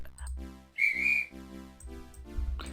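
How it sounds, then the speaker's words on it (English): A steam-style train whistle in the Roblox game Blue Trains gives one loud, clear, shrill blast of about half a second, standing out over a low, steady background hum and faint game sounds. "You got a whistle."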